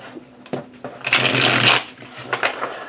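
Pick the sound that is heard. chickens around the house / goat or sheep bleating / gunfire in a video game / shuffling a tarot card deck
shuffling a tarot card deck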